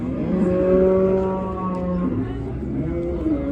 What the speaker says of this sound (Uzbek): Ha, sigirlar.